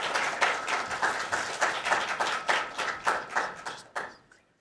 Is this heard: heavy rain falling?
no